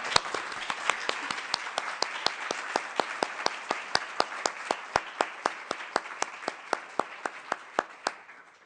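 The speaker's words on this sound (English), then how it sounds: "Round of applause for our" Audience applause at a nurses' panel discussion, a steady run of distinct claps at fairly even intervals with a dense clapping wash beneath, tapering at the end.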